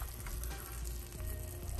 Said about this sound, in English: I already had this pan on, that's why it's sizzling